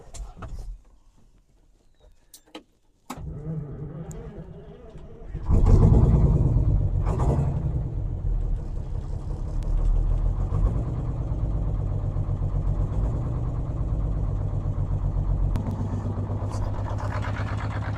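A farm vehicle engine cranks briefly after a quiet start, then fires up around the midpoint with a loud rev and settles into a steady, rumbling idle nearby while people talk.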